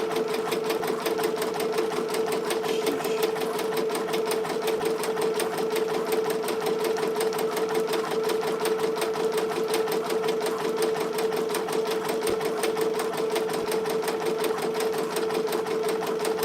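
A Ricoma EM-1010 embroidery machine stitches steadily for the whole stretch, a close, even, rapid mechanical hum with a fast rhythmic needle patter and no talking over it.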